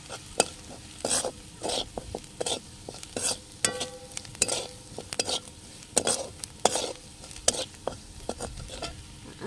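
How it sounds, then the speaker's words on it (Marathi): Onion browned in a pan is stirred with a spoon after turmeric, salt and chutney go in, giving soft sizzling and repeated scraping clinks against the pan in an irregular rhythm at close range. "तर हिथं आपला कांदा लालसर भाजून झालेला आहे"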